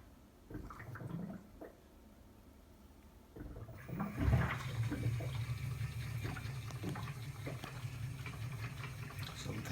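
BrewTools B80pro brewing system pump starting up and circulating wort around the outside of the malt pipe, a steady rushing, watery flow that swells in after a quieter start and holds at moderate loudness.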